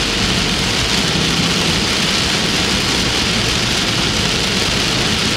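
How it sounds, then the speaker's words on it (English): Heavy tropical-storm rain pounds a moving car in Hudson, Pasco County, Florida, a loud, dense, unbroken roar of drops drumming on the roof and windshield over engine and road noise, steady and close throughout with no voices. "That is some serious rain from this tropical storm right now."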